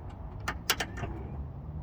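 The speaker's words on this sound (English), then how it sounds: "It's got an automatic shut. It sucks in the door and it locks it in place." A Lincoln Town Car door being pulled shut and latched by its automatic closer: a quick series of close mechanical clicks and thuds as the door draws in and locks, with no talking.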